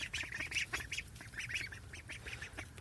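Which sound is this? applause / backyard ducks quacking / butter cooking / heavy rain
backyard ducks quacking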